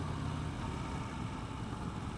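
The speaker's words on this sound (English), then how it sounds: "It's got a little bit of a rumble through the exhaust." Steady low exhaust rumble from a 2016 Harley-Davidson Street Bob motorcycle, a continuous, even engine drone with no talk over it.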